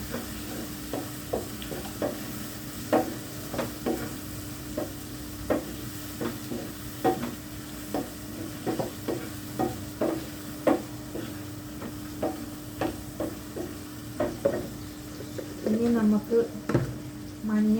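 Small chopped apple pieces for a pickle are sautéed in hot oil, giving a steady sizzle broken by regular scraping stirs of a spoon against the pan, close and fairly loud.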